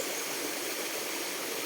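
A river creek flows with a steady, soft rushing wash of water, continuous and even, with no voices over it.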